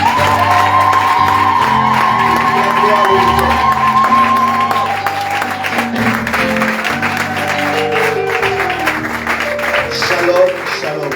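A church congregation applauds and cheers steadily throughout, the clapping and shouts mixed under loud worship music and singing.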